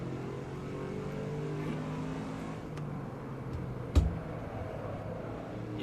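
In Assetto Corsa at Brands Hatch Indy, a car's engine drones at moderate volume with shifting revs and one sharp knock partway through, with no one talking.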